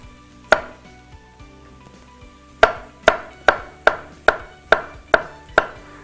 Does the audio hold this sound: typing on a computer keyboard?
no